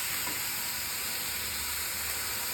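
Ginger garlic paste sautéing in a kadai makes a steady, close hiss and sizzle with a faint crackle underneath, holding even and alone throughout.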